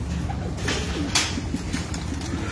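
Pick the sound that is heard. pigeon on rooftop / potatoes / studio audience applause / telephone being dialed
pigeon on rooftop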